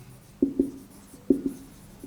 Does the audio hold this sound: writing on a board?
yes